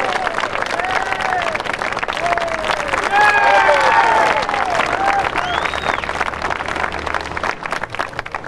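A street performance audience in New Orleans breaks into applause and cheers, with clapping swelling in the middle and fading while voices call out over it.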